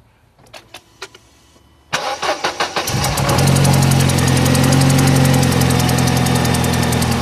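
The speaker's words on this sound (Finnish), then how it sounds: "Sitten täräytetään moottori käyntiin ja" A 1999 Mercedes-Benz SLK 230 with an exhaust air-feed fault cranks with several clicks and starter pulses, then catches and settles into a loud, steady close idle.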